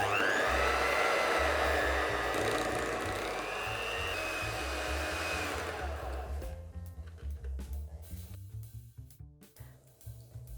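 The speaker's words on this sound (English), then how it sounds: "now we're going to mix it all together until it's well combined" An electric mixer blends cheesecake filling with creme fraiche, first a loud steady whirring drone, then the motor chops into uneven pulsing bursts as it works the mixture, close and alone.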